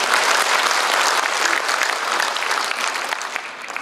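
Steady applause from the audience at a Korean Agent Orange veterans' association general assembly, a dense wash of many hands clapping that holds its level for several seconds.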